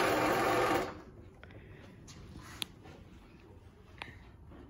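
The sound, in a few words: motor for Brother knitting machine running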